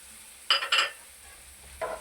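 Milk and sugar go into a pan of egg vermicelli, giving two close bursts of splashing sizzle, then a quieter stretch and a third brief stir near the end, with no voices.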